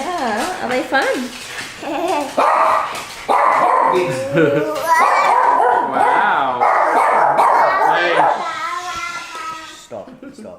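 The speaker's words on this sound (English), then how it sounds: "Wait, what kind of dog is this one? It's a pom." A Pomeranian barks and yips repeatedly in high, sharp bursts close to the microphone, mixed with whines, while people talk over it.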